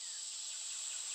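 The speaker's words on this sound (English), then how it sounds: "You can hear the cicadas in the back." A steady, high, continuous drone of cicadas buzzing on a farm with crops, distant and faint, with no voices over it.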